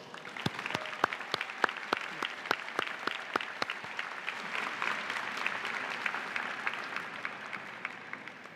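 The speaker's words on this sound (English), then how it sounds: "Would you please join me in a round of applause?" Graduation ceremony audience applauding honorees, opening with a few sharp, distinct claps that quickly swell into a broad, sustained round of clapping from a large crowd, heard at some distance.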